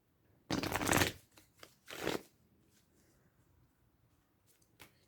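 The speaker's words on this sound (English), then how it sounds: "So I'm going to shuffle these cards real quick." A deck of playing cards is shuffled close by: two loud riffling bursts, each about half a second long, then softer scattered taps and flicks as the cards are squared, in a quiet room.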